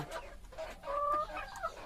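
Farm chickens drinking from drip waterers cluck and call softly nearby, a few overlapping bird voices with faint background rustle.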